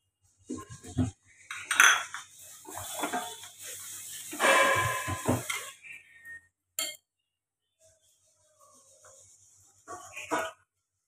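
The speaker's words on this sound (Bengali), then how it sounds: "এটা চিনির সঙ্গে এটা পেস্ট করছি, ঘি আর চিনি।" Ghee and sugar whisked into a paste in a bowl for nan khatai, giving repeated scraping and clinking strokes in bursts with short pauses, close and moderately loud.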